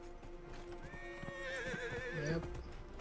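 A horse whinnies loudly in a wavering neigh over steady hoofbeats and a low game-like hum, close and clear, in the video game Dragon Age: Inquisition.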